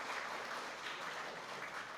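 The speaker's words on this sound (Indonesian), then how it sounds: "Tepuk tangan untuk kemuliaan Tuhan." Steady, dense applause from a church congregation during a worship service at Gereja Anugerah Tulung Agung, a continuous even wash of clapping filling the room with no voices over it.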